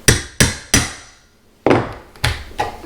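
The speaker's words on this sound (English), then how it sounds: "If you need to use the hammer, you can." Sharp hammer strikes on wood trim being pried off, three quick blows then a pause, followed by three more, each ringing briefly and close by.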